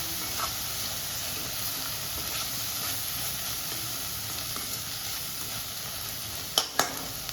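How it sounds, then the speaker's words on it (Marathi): Paneer bhurji masala sizzles steadily in a pan as it is stirred, a soft continuous hiss with a couple of sharp spoon clinks against the pan near the end, no talking. "आता हे चांगलं मिक्स करून घेऊया."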